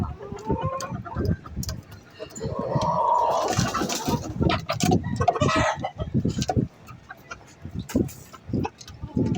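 A flock of pet backyard chickens clucks and calls in repeated bursts, fairly near and loud, with a voice faintly mixed in at moments.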